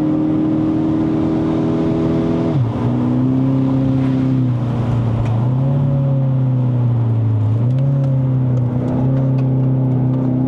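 A Kia Optima GT with a 242 hp engine and open exhaust climbing the Genting road in Malaysia, heard from inside as a loud steady drone whose pitch dips and rises with gear changes.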